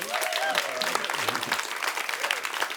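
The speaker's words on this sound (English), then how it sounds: "Give them a round of applause." A festival audience gives a warm round of applause for the panellists after a theatre discussion. The clapping is dense and continuous, with a few voices and cheers mixed in.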